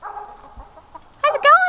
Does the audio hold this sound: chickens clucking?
yes